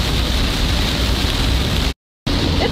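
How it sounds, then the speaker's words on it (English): Heavy thunderstorm rain falls in a dense, loud, steady wash of noise, broken by a brief dropout of silence before resuming. "It's raining."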